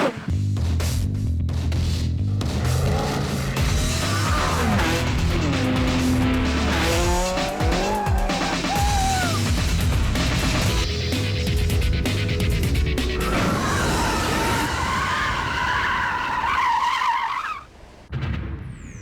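A Lexus LFA and an Audi R8 quattro FSI, both 10-cylinder supercars, drive on back roads near an air base. Engines roar loudly and rev up and down, with repeated shifts and brief tire squeals, ending in a rising high pitched wail.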